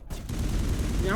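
Shotgun fire in Mass Effect 1 Legendary Edition, heard as a dense, continuous burst of game gunfire and combat noise lasting just over a second.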